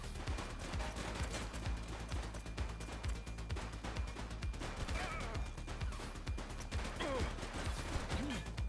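Gunfire crackles through a police shootout in The Precinct video game, dense overlapping shots and bursts running steadily under music and game sound, with brief shouted voices near the end.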